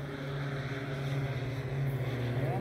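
A watercraft engine idles with a low, steady droning hum and faint wind and water noise around it, heard at moderate distance without speech.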